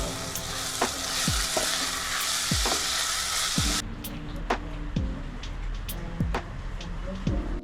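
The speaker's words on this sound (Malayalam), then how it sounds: "കംപ്ലീറ്റ് വെച്ചതിന് ശേഷം നന്നായിട്ടൊന്ന് ഇളക്കി യോജിപ്പിച്ച് എടുക്കുക." Marinated chicken being stirred in a cooking pot for a millet chicken rice dish, a spoon scraping through the thick mixture in repeated strokes under a steady sizzle, close and fairly quiet.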